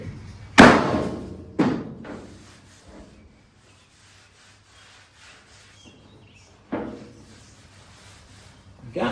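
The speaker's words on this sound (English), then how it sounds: "Now the orange hammer is the one you want to use because it's got magic." An orange hammer strikes a car trunk deck's sheet metal in a few sharp, loud blows spaced seconds apart, each one leaving a short ringing decay in a quiet workshop.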